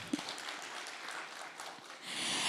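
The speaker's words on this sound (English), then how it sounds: "give MTC Dome a wonderful round of applause" Conference audience applauding the MTC Dome venue at a communicators conference, a steady, moderately quiet wash of clapping from a crowd that swells slightly toward the end.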